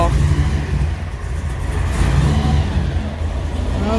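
1955 Chevy engine running and revving: a loud, continuous rumble that rises and falls in steady waves, heard up close.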